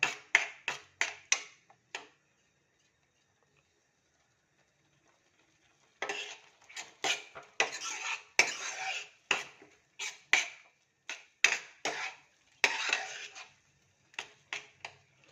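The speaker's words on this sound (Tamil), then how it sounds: "நல்லா வதக்குங்கப்பா கொஞ்சம் பசை வாசனை போகட்டும்" A spatula stirs and sautés masala sundal in a pan, knocking out bursts of quick scraping clatters, then a roughly four-second pause before the rhythmic stirring resumes close by, fairly quiet, with no speech.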